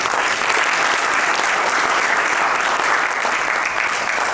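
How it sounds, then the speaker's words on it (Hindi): A theatre audience gives dense, steady applause after Bela Theatre Karwan's stage play at a national drama festival, loud and continuous throughout with no audible talk. "एक जोरदार तालियां।"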